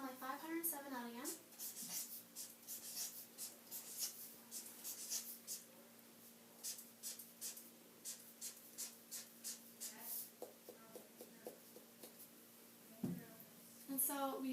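A pen scratches across paper in a run of close, rhythmic strokes and taps while numbers are drawn out, with a brief voice at the start and a pause before the writing picks up again.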